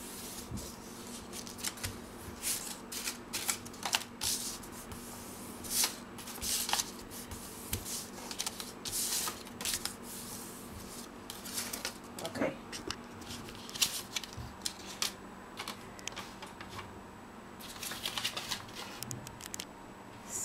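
Paper is folded and creased tightly to make a paper Christmas tree. Close, dry crinkles and rustles arrive in irregular bursts, with speech at times.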